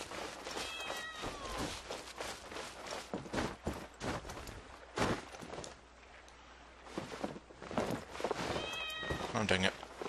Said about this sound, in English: I hear the cat, actually.